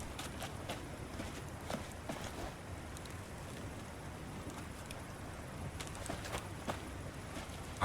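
Soft, steady hoofbeats of a horse clip-clopping in the video game Syberia: The World Before, a faint irregular patter over a low ambient background.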